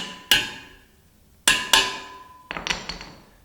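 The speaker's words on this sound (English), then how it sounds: "Hammer in my insert nut and we'll be good to go." Sharp metallic hammer strikes ring out as an insert nut is hammered in: three single blows with pauses, then a quick cluster of lighter taps at the end.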